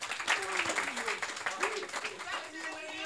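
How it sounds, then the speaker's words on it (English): Applause from a panel audience at a music publishing discussion, steady clapping across the whole moment with a voice talking over it. "Round of applause."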